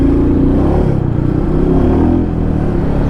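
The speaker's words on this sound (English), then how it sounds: "Oh, I love the growl, you know, the engine, you know, it's growl, it's low thumping growl." Royal Enfield Meteor 350 cruiser motorcycle engine rumbling with a low, steady thumping growl, loud and close throughout with no talking.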